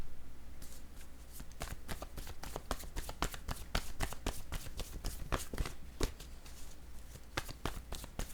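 Tarot-style reading cards being shuffled by hand, a close, quiet run of rapid riffling flicks and slaps continuing throughout with no talking.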